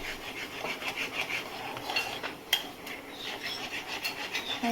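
A spoon scrapes and rubs steadily around a pan as milk powder batter is stirred into hot ghee, a soft continuous rasping with occasional clinks, close and alone.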